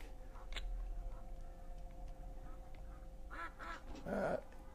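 Cartoonish duck quacks in the 1995 3DO first-person shooter Killing Time, a short burst near the end over a steady game ambience hum.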